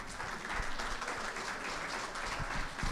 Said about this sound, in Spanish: Agradecemos con un fuerte aplauso la participación del profesor Alberto Fernández Bringas